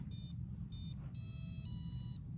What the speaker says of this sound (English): You can hear the motor tone.